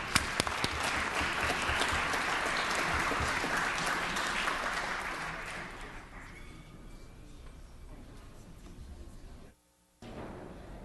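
Applause in a state assembly legislative chamber, loud sustained clapping that fades gradually over several seconds before a brief silence.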